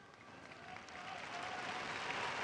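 Large outdoor crowd applauding after the Angelus prayer with the Pope, a distant, broad wash of clapping that swells gradually louder and denser over a couple of seconds.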